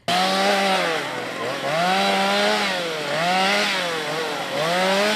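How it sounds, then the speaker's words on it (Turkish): A chainsaw cuts down lemon trees in an Adana orchard, its engine loud and close, rising and falling in a repeated rhythm as the revs surge with each cut. "Kimi üretici motorlu testereyle ağaçlarını keserken kimi üretici de kepçeyle söktü."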